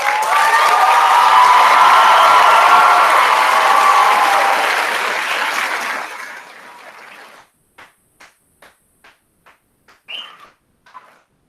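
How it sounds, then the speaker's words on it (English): A high school graduation ceremony audience applauding, a loud dense wave of clapping and cheering that fades after about six seconds into a few scattered isolated claps. "seniors, can you give your families a round of applause?"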